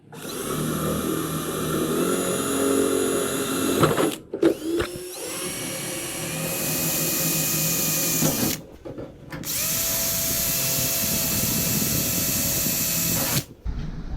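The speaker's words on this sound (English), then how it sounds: "let's go ahead and drill the holes" A power drill whines loudly in three long bursts separated by brief pauses, its pitch shifting slightly as it bores holes through the metal hood of a 1970 Plymouth Cuda.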